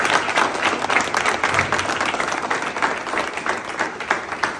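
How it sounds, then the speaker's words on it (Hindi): An audience at an Indian network-marketing award event claps loudly and continuously, a dense sustained applause filling the room with no pauses. "मैं चाहूँगा एक बार पहले तो नारी शक्ति और मातृशक्ति के सम्मान में जोरदार ताली बजाओ एवरीवन।"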